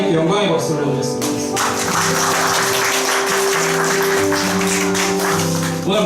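Congregation applause rises during a Korean church worship service and continues as dense clapping under sustained music and singing.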